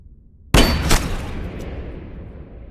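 A single sharp, loud gunshot from the 2017 film V.I.P. cracks out suddenly, followed by a quick second burst and a long fading echo.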